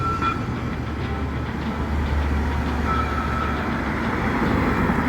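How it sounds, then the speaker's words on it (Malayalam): A metro-like commuter train idles at a small Silicon Valley station, its steady low engine hum and rumble close by, with faint tonal whines and light clanks over the continuous drone. "ഇത് ഈ മെട്രോ പോലുള്ള ഈ ട്രെയിന് ഞാനിതുവരെ ഇതിൽ കയറിയിട്ടില്ല"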